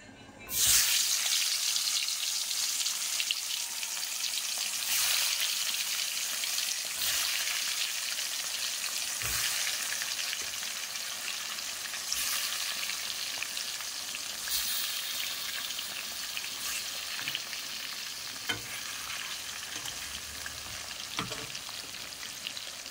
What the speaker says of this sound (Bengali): তো মাছগুলো প্রথমত ফ্রাই করে নিই